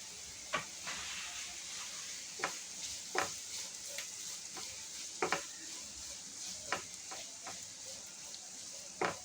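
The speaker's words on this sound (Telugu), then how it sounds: "క్యాప్సికమ్ వేస్తున్నానండి. క్యాబేజీ, క్యారెట్ వేస్తున్నాను." Capsicum, cabbage and carrot stir-frying in a pan for vegetable noodles: a faint, steady sizzle with a scattering of sharp spatula scrapes and clicks at irregular intervals, no voices.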